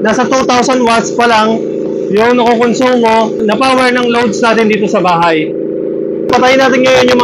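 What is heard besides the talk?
No everyday noise stands out behind the speech.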